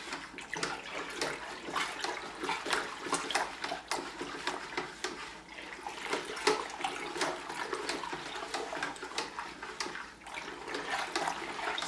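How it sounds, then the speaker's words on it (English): Homemade wine being stirred in a fermenting container to oxygenate it, a steady close sloshing and swirling of liquid with rhythmic strokes throughout and no talking. "So I'm just going to stir that up."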